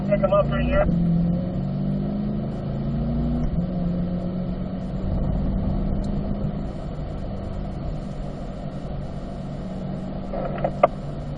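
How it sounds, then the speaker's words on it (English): Near a car rumbles steadily as it rolls forward and pulls in third gear, with engine tones that climb gradually under the hum of the cabin, and a brief clatter near the start and end. "Let's go ahead and roll forward here now. We'll select third gear."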